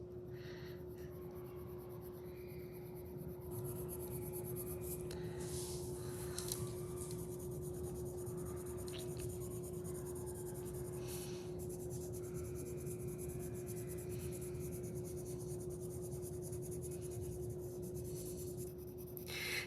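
Colored pencil scratching steadily across paper while shading and blending an avocado drawing, a continuous close, faint rasping stroke texture over a low steady hum.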